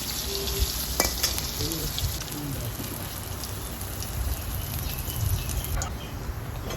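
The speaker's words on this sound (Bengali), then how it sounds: "উচ্ছে ভাজার তেলের মধ্যেই আমি বেগুনগুলোকে ভেজে দেবো" Unsalted brinjal slices fry in oil already used for bitter gourd, for a Bengali-style shukto. A steady, rain-like sizzle with a few sharper crackles runs throughout, with no talk.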